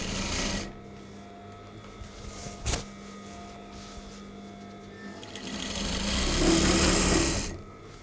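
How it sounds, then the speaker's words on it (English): A sewing machine runs steadily stitching along a line of curtain tape, a continuous mechanical whir with a brief knock partway through and the motor rising slightly louder toward the end. "we're just machining along this line all the way to the other end."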